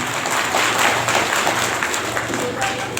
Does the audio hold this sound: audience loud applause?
yes